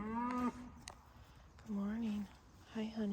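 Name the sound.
cows mooing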